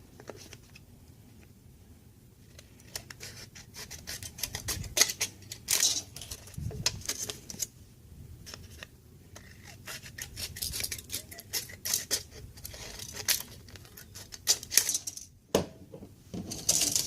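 Trimming the sides of a homemade metal heat shield for an AK rifle, irregular scraping and rasping strokes with occasional sharp metallic snips and pauses, close and fairly quiet.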